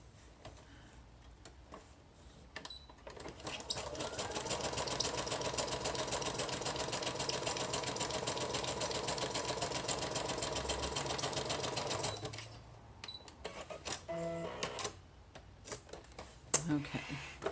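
A sewing machine zigzag-stitches along the edge of a paper journal belly band, a steady rapid mechanical whir of about nine seconds, close up, with brief handling noises and faint talk before and after.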